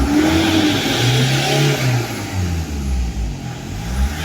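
A Toyota Fortuner engine, just repaired after a low-power fault with the check-engine warning cleared, is revved several times, its mid-pitched roar rising and falling in loud, close bursts.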